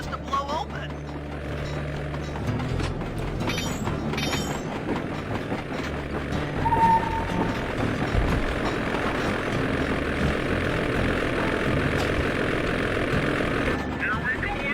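A droning ice plane engine from the Sly 2: Band of Thieves video game hums continuously and fairly loud, mixed with rumbling game effects and music for the whole stretch.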